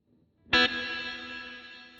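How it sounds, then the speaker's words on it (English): A Headrush pedal's long plate reverb rings out from one sharp, bright note struck on the guitar, decaying smoothly with a dense, shimmering tail that lingers evenly to the end, heard alone with no talk. "So we'll go with a long plate."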